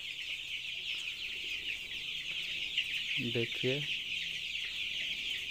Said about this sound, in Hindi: पूरा खुला जगह में है, कितना अच्छे से चूजे लोग दौड़ रहे हैं, खेल रहे हैं।